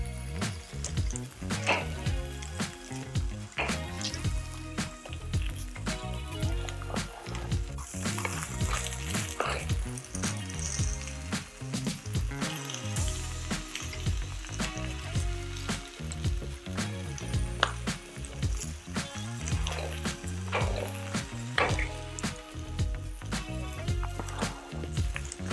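Filling for a taco gobernador sizzles and crackles steadily on a hot griddle, close and continuous, with scraping and squishing as it is pushed around and occasional spatters.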